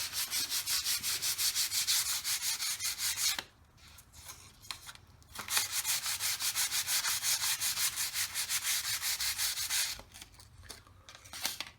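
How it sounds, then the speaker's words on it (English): Sanding both sides of model rocket fins: long runs of close, rhythmic back-and-forth scratchy rasping strokes, pausing briefly twice before resuming, with no voices. "we have the fins and we need to sand both sides."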